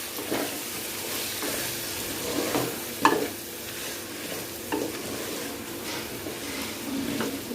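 Vegetables for veg pulao fry in a pan as turmeric is stirred in, giving a soft continuous sizzle with a few spoon clinks and scrapes, one sharper knock near the middle.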